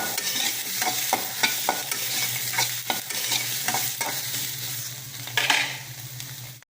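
Capsicum and egg fry in a pan for a diet egg podimas, with repeated spatula stirs and scrapes over a steady sizzle. Close and moderately loud, with no talking.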